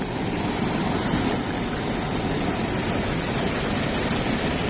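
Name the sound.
cold, crystal-clear river water flowing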